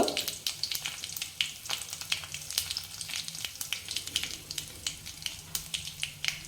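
Curry leaves and asafoetida crackling in hot oil, a close, lively sizzle full of rapid popping spatters that continues steadily throughout.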